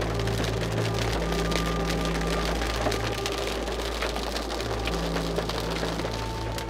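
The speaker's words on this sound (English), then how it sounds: "We just passed through a hell of a ton of hail." Hail pelting a car during a storm while driving, a dense continuous clatter on the body and glass over low road and engine rumble, steady and loud throughout with no talking.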